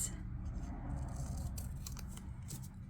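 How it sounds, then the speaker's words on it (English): Scissors snip through a sticker during planner crafting, giving soft, close crisp cuts over a faint low room hum, with no talking. "I'm going to simply just cut this"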